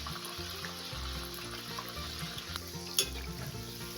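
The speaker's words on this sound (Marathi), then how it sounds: "मी आता अशा प्रकारे सर्व कापण्या तळून घेते." Wheat flour kapanya fry in hot oil with a continuous bubbling sizzle, broken by occasional stirring and a sharp utensil clink near the end.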